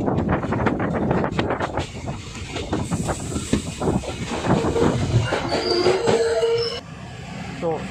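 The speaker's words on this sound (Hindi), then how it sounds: "आप देख सकते हैं इसी ट्रेन से मैं आया था जो अभी जा रही है" A train pulls out of a railway station: loud rolling rumble and clickety-clack of wagons, then high wheel squeals rising over the running noise, with faint voices in the background.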